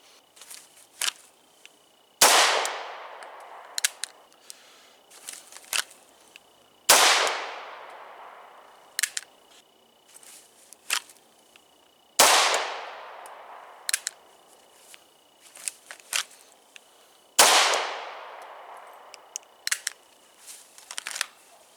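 Four sharp, loud gunshots from a low light shooting course of fire ring out at roughly five-second intervals, each followed by a decaying echo, with smaller clicks and handling noises between them.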